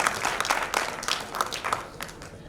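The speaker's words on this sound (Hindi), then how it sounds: "एक बार इनके लिए तालियां बजाइए।" Applause from an audience at a Hindi poetry recital event, a dense patter of hand claps swelling and fading in irregular bursts, fairly close and moderately loud.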